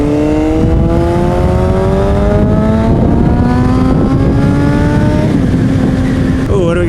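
A Honda CBR600 motorcycle engine revs loudly and close, its pitch climbing steadily across several seconds, then drops off sharply at the end. No talk is heard.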